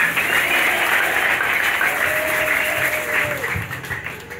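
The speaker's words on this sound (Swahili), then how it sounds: "Mpe Yesu makofi mazuri." A church congregation claps together during a Sunday worship sermon, a steady wash of applause that holds at full strength for several seconds and then thins slightly toward the end, with no voices over it.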